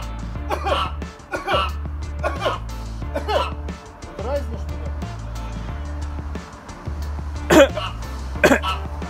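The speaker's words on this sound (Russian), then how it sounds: "Какой кашлик квартет какой-то." Several people coughing in turn, a string of short harsh coughs with a few throat-clearing sounds and light chuckles mixed in, over a steady low background hum.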